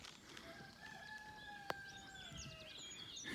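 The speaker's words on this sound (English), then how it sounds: "That's the cock." A rooster crows at a distance along a rural walking route in Portugal in April, a long drawn-out call that rises and falls over steady background bird chatter and outdoor ambience.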